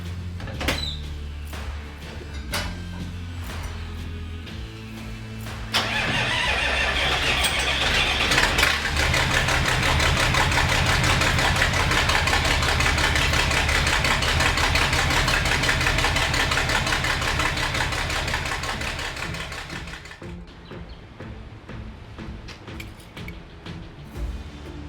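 A John Deere 4240 tractor engine turns over and settles into a loud, steady idle for about fifteen seconds, then fades down, with some clunks and mechanical knocks before it starts.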